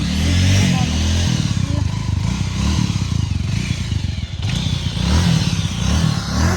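A motorcycle engine runs close by with a steady throbbing rumble and some rattling, swelling slightly toward the end.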